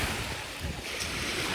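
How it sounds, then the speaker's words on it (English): Sea waves washing onto a beach, a constant rushing surf mixed with wind buffeting the microphone, close and fairly loud with no voices. "I'm like right at the sea, basically."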